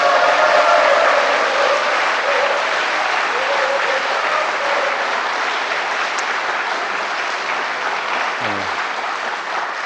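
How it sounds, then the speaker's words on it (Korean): A large audience applauds in a long, even stretch of clapping that fades only slightly toward the end. "여러분도 목사님께 한번 큰 박수 부탁드리겠습니다"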